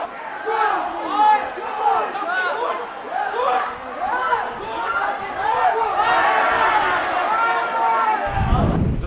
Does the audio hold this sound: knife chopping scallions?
no